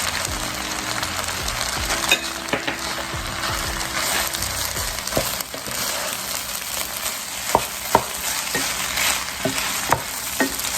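Shrimp and bean sprouts stir-frying for fried rice give a loud, steady sizzle with scraping stirs and a few sharp clinks near the end, close up and with no talk.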